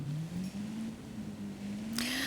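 Car engine in the final race of the Forza Horizon 5 Eliminator video game, a steady droning hum slowly rising in pitch, with a brief hiss near the end.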